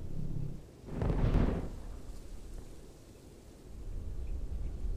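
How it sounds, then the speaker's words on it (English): A deep, rumbling explosion in the real-time strategy game Ground Control 2 swells and fades over about a second, heavy in the low end, then a steady noisy battlefield background carries on with no speech. "Now that's an explosion."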